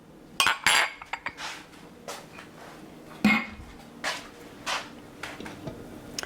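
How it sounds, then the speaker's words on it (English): A spoon scraping and clinking against a pot while grits are stirred, a series of sharp, separate metallic knocks and scrapes at an irregular pace, fairly close, with no talking. "We have 24 seconds for the next stirring of our grits"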